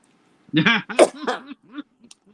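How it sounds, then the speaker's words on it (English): A short, voiced cough in several rough bursts, close and fairly loud, trailing off into a few fainter throaty sounds. "That wasn't an editorial cough, by the way."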